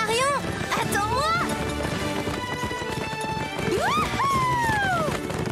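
Horses galloping on a ranch, rapid hoofbeats drumming under music, with whinnies rising and falling, fast and close throughout.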